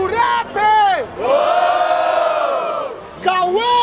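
A live crowd at a Brazilian freestyle rap battle roars and whoops in unison, a loud sustained cheer broken by short shouted bursts near the start and end.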